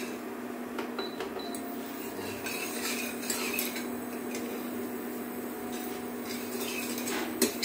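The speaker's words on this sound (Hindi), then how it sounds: "कंटिन्यू इसे चलाते रहना है ताकि शक्कर अच्छे से गल जाए" Sugar and water stirred in a pan, with a steady run of light metallic spoon scrapes and clinks against a low constant hum, close and continuous with no talking.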